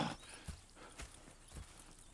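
Horse hooves clip-clop in Red Dead Redemption, several evenly spaced soft hoofbeats at a slow walking pace, fairly quiet and on their own.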